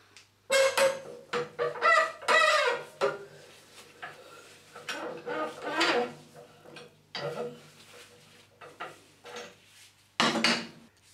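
A spanner works a tight, partly rounded nut loose from a pipe compression fitting, producing close metallic clicks, ratcheting taps and scraping bursts in irregular clusters with short quiet gaps.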